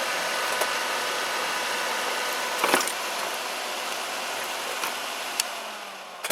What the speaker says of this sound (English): Turn off my exhaust fan.